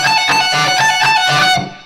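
An electric guitar plays a fast lick with pull-offs, the pattern shifted up the neck, as a bright, loud run of notes that ends abruptly and leaves a short fading tail.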